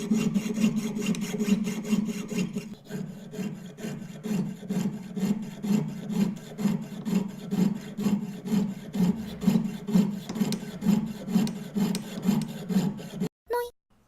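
A jeweler's saw cuts through metal during jewelry work, giving a steady, close rasping of regular back-and-forth strokes that continues rhythmically and ends with a brief clatter.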